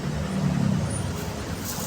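Busy roadside traffic with cars, buses and trucks rumbles close by, a heavy engine throbbing low in the middle, with a brief hiss at the end like an air brake, no talk.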